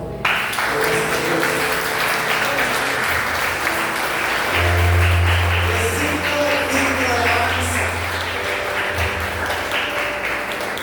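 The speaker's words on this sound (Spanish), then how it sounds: "Dale un aplauso" Church congregation applauding together in a worship service, a dense steady wash of clapping that fills the room throughout, with a low sustained musical tone swelling beneath it midway.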